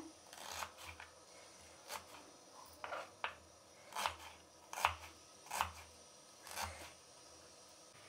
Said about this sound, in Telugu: నేను ఇక్కడ ఎర్రగడ్డలు పొడిగా కట్ చేస్తున్నానండి.